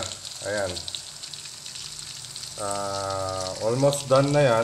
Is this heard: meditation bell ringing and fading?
no